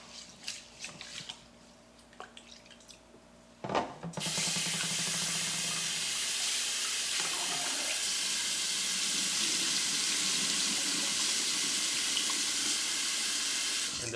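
Running tap water pours steadily into a bowl while rice is washed, a loud continuous splashing rush that starts abruptly after a few seconds of quieter handling sounds and lasts to the end.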